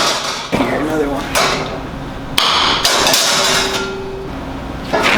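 A stud welder fires studs onto flat areas of CNC plasma-cut steel wall art, giving a few sharp, loud bangs spread across the stretch, with mechanical clatter in between.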